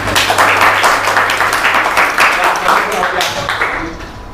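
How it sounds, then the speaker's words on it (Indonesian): A classroom of pupils applauds the red group during a ratio maths lesson, a steady wash of clapping lasting several seconds, fairly loud and close, with a low hum underneath. "Oke, tepuk tangan untuk kelompok merah"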